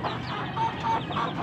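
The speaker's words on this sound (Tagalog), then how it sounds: "yung mga ganitong manok natin" Several chickens cluck softly in short bursts against a noisy, continuous background.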